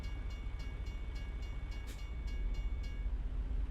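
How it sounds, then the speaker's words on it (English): A train rolls past in American Truck Simulator, a steady low rumble with a rhythmic clicking of wheels over rail joints, moderately loud and continuous, with no voices. "I wonder if the train is moving that fast."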